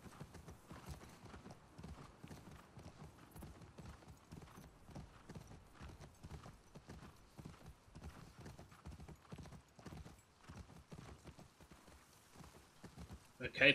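Horse hooves clop in the video game The Last of Us Part II, a steady run of quick, fairly quiet hoofbeats continuing throughout with faint background ambience.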